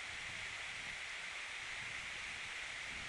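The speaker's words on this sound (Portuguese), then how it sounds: "Vai subindo essa cachoeira, vai." A waterfall roars in a continuous, unbroken hiss of falling water, steady and fairly close, with no talking heard.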